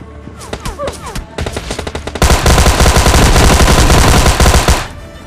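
Gunfire in the mobile game PUBG Mobile Lite: a few sharp separate shots give way to a loud, sustained automatic burst that rattles for several seconds before cutting off.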